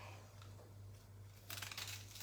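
A knife cuts through a fresh onion in a kitchen, making a faint, brief crisp slicing crunch after a quiet stretch over a low hum.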